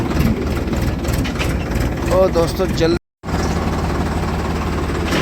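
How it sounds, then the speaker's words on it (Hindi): Ford tractor engine running in low gear as it creeps slowly onto a silo, a steady heavy rumble with a brief dropout, while someone talks over it. "और लो में लगा दिया है ट्रैक्टर। अब ये धीरे धीरे अंदर सिलो पे चल रहा है।"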